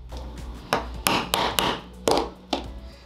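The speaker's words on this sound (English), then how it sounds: "And it hammers through a little hole." A hammer drives a small hole punch through pillowcase fabric to make thread eyelets, giving six or so sharp, close taps at an uneven pace with short gaps between strikes.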